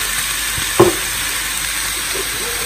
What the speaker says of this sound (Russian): Вот сейчас она обжарится, потом на медленный огонь и так будет доходить до полуготовности.